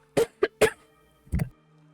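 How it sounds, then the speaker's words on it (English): A person coughs three quick times close up, followed by a heavier throat-clearing cough after a short pause, with no talking in between. "this is like coughing"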